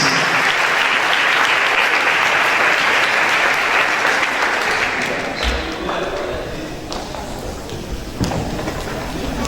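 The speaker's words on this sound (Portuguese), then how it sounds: "aplauda ao Senhor" Church congregation applauding at an evening worship service, a dense, steady wash of clapping that fills the space and then thins out toward the end, with a few individual claps and some voices audible underneath.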